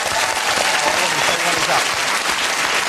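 Studio audience applause on a comedy quiz show, a dense steady wash of clapping that stays loud and close throughout, with some whoops and cheers mixed in.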